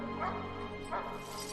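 Dogs in a film give short yips and whimpering barks, two brief bursts a moment apart, fairly quiet over a low background hum.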